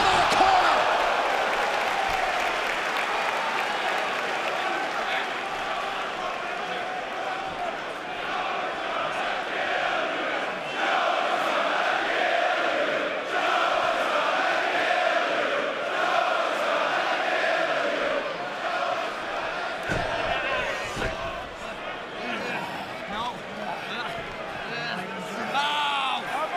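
Wrestling arena crowd at an NXT TakeOver title match in Dallas roars in a sustained, dense wash of cheering and chanting throughout, with commentators talking over it.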